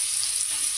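Cloves, cardamom and cinnamon sizzle in hot oil with a constant hissing crackle, close and steady for a brief moment with no voices.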